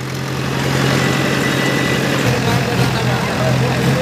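Two tractors, a Farmtrac 6055 and a Sonalika 750, idle side by side before the second round of a tractor tug-of-war contest, a loud, steady diesel rumble with a constant low drone that firms up after a soft start.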